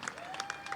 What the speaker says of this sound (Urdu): اب جو لوگ ساتھ دے رہے ہیں تو وہ تالیاں بجا کے بتا دیں